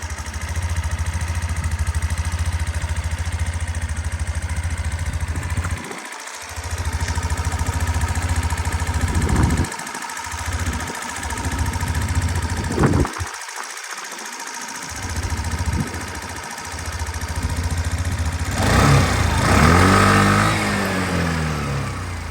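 A Suzuki Address V125G scooter from Japan runs steadily at idle close by, a smooth continuous engine hum broken by a few brief dropouts and small knocks, with no one speaking.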